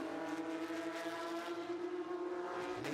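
Porsche Carrera Cup race cars sweeping past on the Miami circuit, a loud sustained engine howl with steady harmonic tone and a slight pitch drop near the end.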